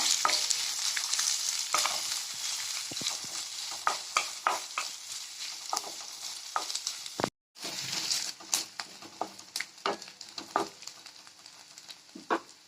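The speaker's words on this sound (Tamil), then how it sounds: "2 பெரிய வெங்காயத்தை கட் பண்ணி இதில் சேர்த்துக்கோங்க. இதை கலர் மாறுற அளவு நல்லா வதக்கிக்கோங்க" Two large chopped onions sautéing in a hot pan for paneer butter masala, a soft continuous sizzle broken by repeated scraping stirs, with one brief silent gap midway.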